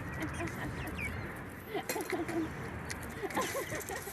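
Chickens cluck softly in a busy group, with a low murmur of voices under the steady, slightly noisy outdoor background.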